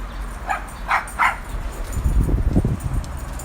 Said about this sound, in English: That barking dog, that's Polar